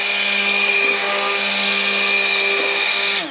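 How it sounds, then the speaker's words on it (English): A roughly $22 kitchen blender runs at its lowest speed, mixing cold-process homemade soap, giving a steady loud motor whine with a constant pitch that holds throughout and cuts off at the very end. "And I go at the lowest speed with my blender to start with."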